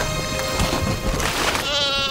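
Sheep bleating in a flock tended by a shepherd, nasal wavering calls heard over a dense, noisy background.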